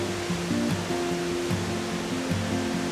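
Salto São Pedro waterfall in Faxinal, Paraná, roars as a dense, unbroken wash of falling water with heavy mist, loud and close, with a faint low hum running beneath and no voices.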